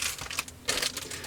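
Plastic bags crinkling as a Meng 1/48 scale Super Hornet model kit is unpacked, a close, bright crackling rustle in short bursts with brief pauses, no voices.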